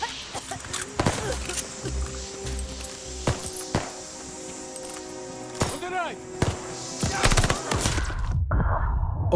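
Gunfire in the video game Call of Duty Vanguard: loud, close bursts of rifle and machine-gun shots crack irregularly over a busy battle backdrop, with metallic clinks between volleys.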